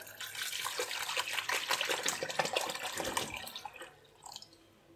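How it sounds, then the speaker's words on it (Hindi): Water is poured from a glass into sifted gram flour in a kitchen, a steady close splashing gush that lasts several seconds and then trails off into light drips. "अब इसमें हम 4 ग्लास पानी डाल देंगे।"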